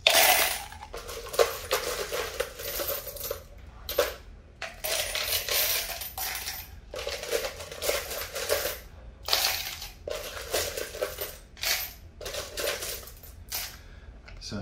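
Coins drop one after another into a plastic water bottle during a sink-or-float demonstration, making a long run of metallic clinks and rattles with short pauses, close and fairly loud, with a voice at times.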